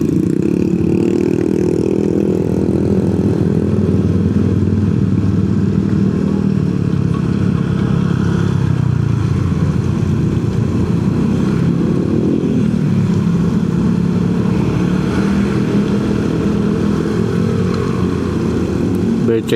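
A motorcycle rides along a muddy, waterlogged road toward Puncak via Jonggol, Indonesia, in slow congested traffic. Its engine drones steadily and close-up for the whole stretch, with low rumbling surges and no break.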